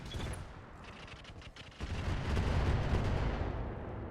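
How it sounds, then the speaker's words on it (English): Cluster rounds fired in the RogueTech mod of BattleTech, a faint rumbling volley of rapid booms that swells into a continuous roar of impacts after a brief dip. "we're going to fire cluster rounds"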